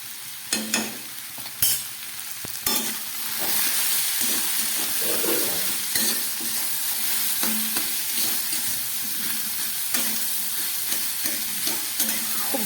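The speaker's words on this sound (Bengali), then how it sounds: "খুব ভালো করে আমি একটু এই মশলা দিয়ে একটু ভেজে নেব" Ash gourd fries in a pan with salt, turmeric and cumin powder, a loud dense hissing sizzle that swells after a few sharp knocks of the spoon, with steady stirring clicks throughout and no speech.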